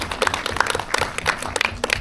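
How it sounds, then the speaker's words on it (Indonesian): An audience at an event applauds in a short burst of scattered, fairly close hand claps with an uneven rhythm. "boleh kasih tepuk tangannya"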